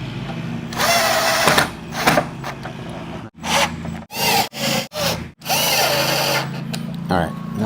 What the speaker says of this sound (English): grab our screws now, and we'll just start securing this back down